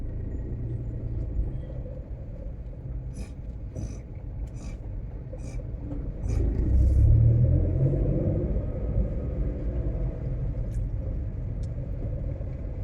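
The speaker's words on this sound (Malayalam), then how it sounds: "ഇത്ര വണ്ടി നിരനിരയായിട്ട് പോവുക" A line of vehicles moving along the Punalur–Muvattupuzha State Highway, a steady low traffic rumble with brief higher bursts, swelling as a heavier vehicle passes close by midway, then settling back to a continuous drone.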